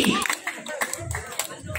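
Audience clapping at a Balinese Calonarang performance at a temple, scattered uneven claps close by mixed with voices and crowd noise, fairly faint overall.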